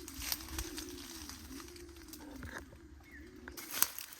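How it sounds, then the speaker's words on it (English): Pigeons cooing near their nests on a tropical island, a soft, steady low rolling coo running continuously, with faint rustles and a brief sharp click near the end. "So many pigeons."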